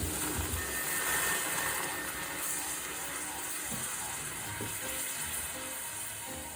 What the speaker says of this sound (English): Oh, here comes the boil over.